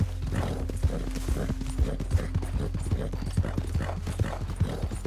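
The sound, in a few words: horse hooves clip-clop in video game Red Dead Redemption II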